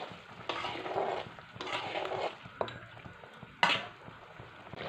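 Mango chutney sweetened with sugar and batasha bubbling in a pan, heard as quiet bursts of bubbling and stirring with a few sharp clinks of a utensil against the pan, close and alone.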